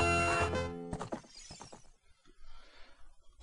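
The horse Epona in the video game The Legend of Zelda: Ocarina of Time gives a loud, bright whinny lasting under a second, followed by a few hollow hoof clops and softer rustling.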